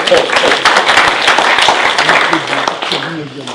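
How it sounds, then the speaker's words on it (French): Audience applause greets a 30-year-old candidate introduced on a municipal election list in Talant, a dense, steady crowd clapping with voices mixed in, fading slightly toward the end. "on peut l'applaudir"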